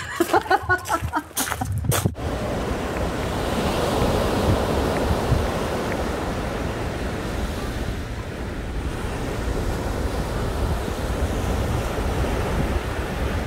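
Strong seaside wind in Brittany roaring steadily across Samsung Galaxy Buds Pro microphones with crashing surf beneath, after a few brief knocks at the start.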